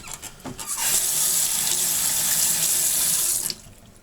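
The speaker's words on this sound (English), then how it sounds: "Just dab them in there, swish them around." Gas mask air deflector shields being swished around in water, a steady rushing watery wash that starts after a few small splashes, stays loud and close for about three seconds, then stops abruptly, with no talk.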